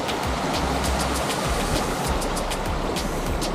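A river rushes near a waterfall, producing a loud, continuous roar of churning water with brief splashy accents scattered throughout and no talking.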